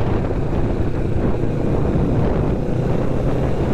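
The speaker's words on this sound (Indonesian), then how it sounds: "Suara 2 silindernya tuh lebih tebal dari Ninja 250 ya." Kawasaki Ninja 650 two-cylinder motorcycle engine heard while riding over bumpy concrete road, a steady loud low rumble mixed with heavy wind buffeting throughout, no talking.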